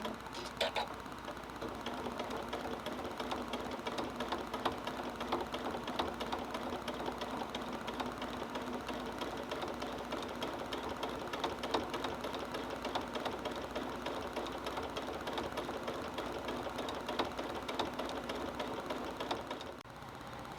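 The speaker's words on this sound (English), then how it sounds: "I'm going to go ahead and start sewing it on." A sewing machine stitches fabric binding onto a cat mat with a quarter-inch seam, running as a steady, fast mechanical whir and clatter that holds unbroken for about twenty seconds before stopping near the end.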